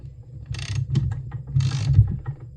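Bar bolt on a John Deere 80EV chainsaw being tightened with a wrench, giving two bursts of close ratcheting clicks over a low mechanical hum.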